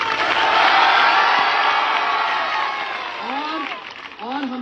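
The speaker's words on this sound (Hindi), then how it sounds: "जोरदार तालियां।" A large crowd at a Bahujan march rally in a village bursts into loud, sustained applause and cheering, a dense roar that eases slightly before shouting voices rise over it near the end.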